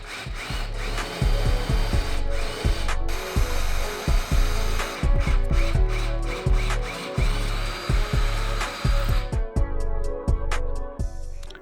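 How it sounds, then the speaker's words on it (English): A power drill fitted with a pocket hole bit bores into wood in repeated loud bursts of whirring and grinding, starting and stopping with brief pauses, up close and without talk. "I just used a pocket hole drill bit for this"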